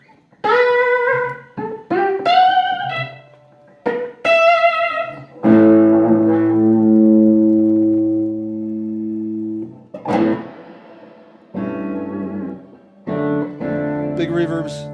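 Electric guitar through a Line 6 M13 set to a big reverb, chords and notes swelling into long washy sustain, close and loud, with brief pauses between phrases.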